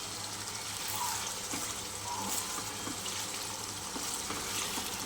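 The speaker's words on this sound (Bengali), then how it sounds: "চলো বেশ ভালো করে একটু লাল লাল করে ভেজে নিই।" Fish frying in hot oil in a pan, a steady dense sizzle running continuously throughout at moderate level with faint clinks, no voices.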